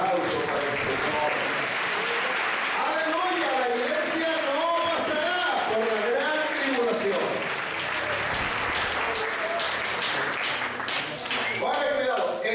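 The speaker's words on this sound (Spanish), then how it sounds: "Fuerte ese aplauso para el Señor." A church congregation applauding loudly and continuously, dense clapping that fills the whole stretch while a preacher speaks over it in Spanish.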